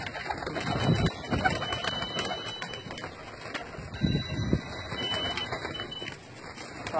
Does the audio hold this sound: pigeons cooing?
yes